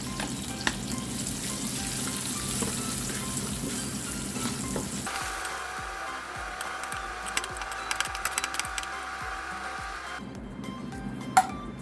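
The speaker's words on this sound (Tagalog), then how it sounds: "Ngayon po ay mag-sosotay na tayo ng garlic at saka sibuyas." Garlic and onion sautéing in a hot pan, a steady close sizzle and frying hiss throughout, with stirring scrapes and a change in tone midway as the pan settles.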